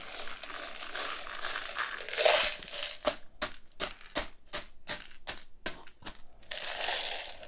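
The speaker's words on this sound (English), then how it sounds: "Crushed glass. So I'm going to pour out a line here." Gritty crinkling and crunching as loose crushed glass spills out, breaking into a quick series of sharp clicks and rattles, close and moderately loud.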